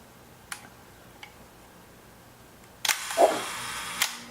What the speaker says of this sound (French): J'en profite pour vous faire écouter le son de cet obturateur.